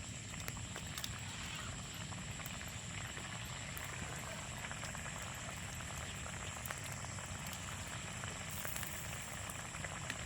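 A pot of mung bean soup bubbles at a steady rolling boil, a continuous soft gurgling and popping that stays even throughout.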